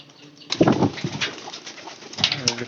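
Pigeons being fed maize give a few soft, close coos that rise after a quiet start and carry on in short, overlapping phrases.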